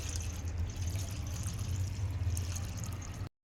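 Sabudana (sago pearls) rinsed gently in clean water, giving a steady wet swishing and trickling that runs continuously for a few seconds before stopping abruptly.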